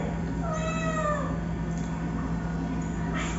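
A cat meows once, a clear drawn-out call near the start over a steady low hum, followed by quiet background.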